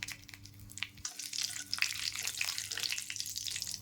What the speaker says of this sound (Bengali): তেজপাতা আর গোটা জিরে দিয়ে ফোড়ন দেব।